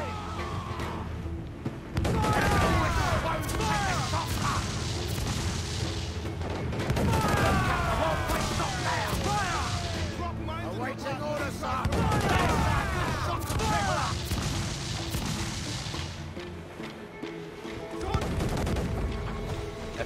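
Ship cannons fire in a naval video game battle against frigates, with repeated bursts of loud booming volleys and crashes separated by brief lulls.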